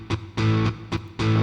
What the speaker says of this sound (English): we need distortion like this